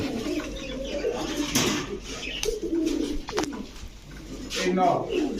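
Pigeons cooing at a pigeon seller's, low rounded coos repeating irregularly nearby, mixed with handling noises and people talking over them.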